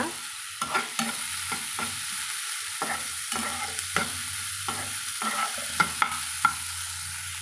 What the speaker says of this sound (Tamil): நாம் இப்போ கொஞ்சமாக மஞ்சள் தூள் வந்து சேர்த்திக்கலாங்க சேர்த்திட்டு கலந்து விட்டுக்கலாங்க